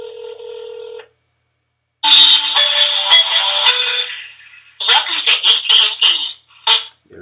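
An iPhone on speaker dials AT&T's 611 line: a steady tone, a short silence, then a warbling ring-like tone followed by a choppy series of electronic beeps and chirps, loud and close.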